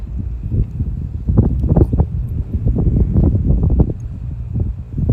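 Strong wind gusts buffet the microphone outdoors at a horse-riding session, a continuous low roaring rumble that swells and surges in waves throughout, loud and close, with faint rustling but no clear talk.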